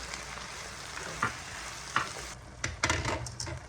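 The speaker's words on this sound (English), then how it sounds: "Let's put in the zucchini and let's put in the mushrooms." Zucchini and mushrooms hit a hot pan and fry with a constant sizzle, broken by a few scraping stirs and utensil knocks, with no talking.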